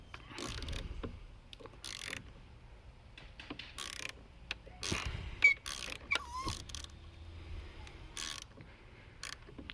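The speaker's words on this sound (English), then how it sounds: "Got a flat head on our manual release screw. I'm going to start backing it out" A flat head screwdriver backs out the manual trim release screw on a Yamaha F90–F115 outboard, giving irregular close clicks and scraping turns with quiet pauses between them.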